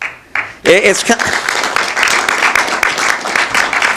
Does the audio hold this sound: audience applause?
yes